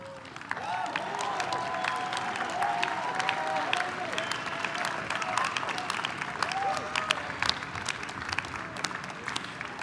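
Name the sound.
commencement audience applauding faculty and staff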